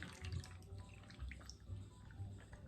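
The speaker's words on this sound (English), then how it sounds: "I'm gonna strain that guy right into my Tom Collins." Molokai cocktail strained into a Tom Collins glass, a quiet liquid pour with soft splashing and dripping, close and low in level with faint clinks.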